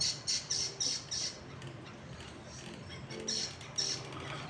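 A bird gives a series of short, harsh squawks in quick bursts, a pause, then a few more, moderately close against a quiet background.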